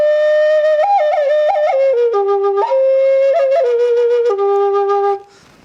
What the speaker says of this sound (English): This is a double flute here.